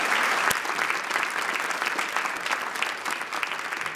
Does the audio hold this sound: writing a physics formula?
no